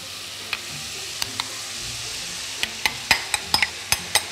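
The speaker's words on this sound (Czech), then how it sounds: "jenom lehce zamíchám společně s tou zeleninou" Cooked couscous is gently stirred into red pepper and vegetables in a pan with the heat just switched off, a faint background sizzle under a series of sharp spoon clicks and scrapes that grow more frequent toward the end.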